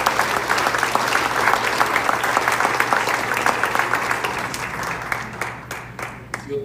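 A church congregation at a Sunday service claps loudly and steadily, a dense wash of applause that thins and fades toward the end, with a low hum running underneath.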